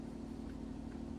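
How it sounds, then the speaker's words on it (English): A vehicle engine idles in a low, even hum with slight regular throbbing, faint and unbroken, no speech. "an idling engine releases harmful pollutants into the air"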